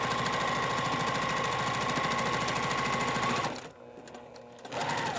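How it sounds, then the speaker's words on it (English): A sewing machine stitches a quarter-inch seam in a rapid, even mechanical chatter, loud and close, running for several seconds before stopping briefly and then starting again. "now I'm going to stitch that out."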